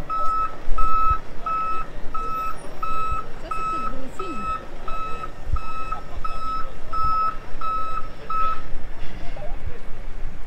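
Truck moving on a road in Chiapas, its reversing alarm giving a regular series of sharp high beeps for most of the stretch over rough engine and street noise, with people talking intermittently.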